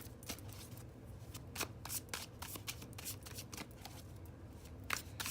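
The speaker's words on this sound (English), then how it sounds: "shuffle this deck for you." A tarot card deck is shuffled close up, quietly, with repeated riffling snaps and soft flutters in an uneven rhythm and no voices.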